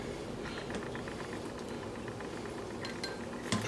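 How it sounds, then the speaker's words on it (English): Cooked pieces scooped out of a pot of boiling water, heard as a low bubbling simmer with light metallic clinks of a utensil against the pot, ending in a brief louder scrape. "scoop them out."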